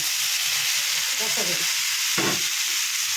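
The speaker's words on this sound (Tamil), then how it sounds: "இப்போ அதில் வெங்காயம், கடுகு, வர கருவேப்பிலை போட்டு தாளசம் பண்ணியிருக்கு" Tomatoes drop into a hot tempering of onion, mustard seeds and curry leaves in a pan for a South Indian chutney, with a steady loud sizzle and a burst of frying crackle as they land.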